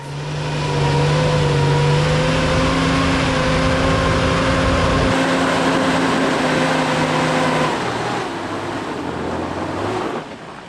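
A Nissan GQ four-wheel drive labours up a slippery high-country track, its engine droning loud and steady at high revs with shifting pitch, then easing off near the end.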